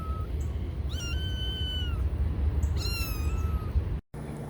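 A very young kitten, about three weeks old, gives two clear, high meows close by over a steady background hum, then the sound cuts out briefly.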